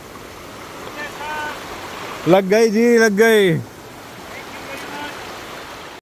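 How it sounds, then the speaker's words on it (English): Water streams steadily at Zenith Waterfalls in Khapoli as a constant rushing wash heard throughout, briefly covered near the middle by a voice calling out. "The water streamed from the middle."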